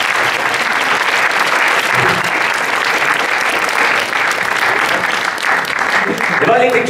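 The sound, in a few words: audience applause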